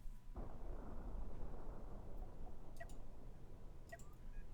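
Two missiles launch in the space-combat game Cosmoteer, a sudden low roar that swells and sustains, dotted with faint electronic chirps and clicks.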